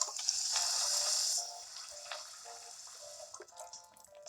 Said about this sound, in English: I need to water them so they will grow properly